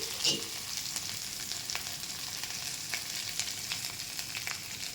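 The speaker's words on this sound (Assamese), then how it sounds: "কেৰাহীখনত সৰিয়হ আৰু জলকীয়াকেইটা দি মই আলুখিনি ভাজি লৈছোঁ" Potatoes frying with mustard and green chillies in a wok, a constant soft sizzle broken by scattered clicks and scrapes of stirring, fairly quiet and close.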